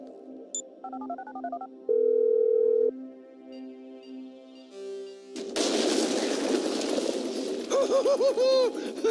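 Phone dialing in Grand Theft Auto V: a row of short electronic keypad tones and a steady dial tone, followed by loud game noise with chirping sounds as the call goes through.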